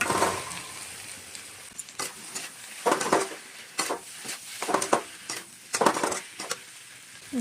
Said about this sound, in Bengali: এবার দিয়ে দেবো আমি এই যে ফুলকপি আর আলুগুলো এখানে ঢেলে দেবো।